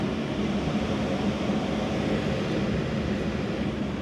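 Air conditioning blows steadily inside a self-driving car, a constant broadband whoosh at low level with no talking.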